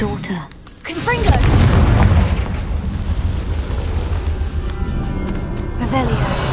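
A Confringo blasting spell detonates in the Hogwarts Legacy video game, a loud, deep boom about a second in that rumbles on for several seconds under continuous game sound.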